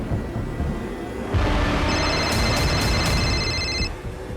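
A phone rings with a steady electronic tone that starts partway through and repeats over low background noise, fairly near and moderately loud.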